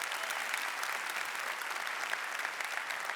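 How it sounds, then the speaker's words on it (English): Conference audience at GitHub Universe 2019 applauding, a steady wash of many hands clapping, distant and fairly quiet but continuous throughout. "Let's give these folks a big round of applause."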